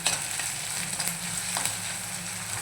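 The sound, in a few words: onion sautéing in a pan for green tomato chutney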